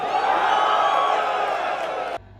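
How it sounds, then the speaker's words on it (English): A large crowd cheers and whoops loudly at a Tesla robot event, forming a dense, sustained roar that stops abruptly near the end. "To a strange amount of cheering"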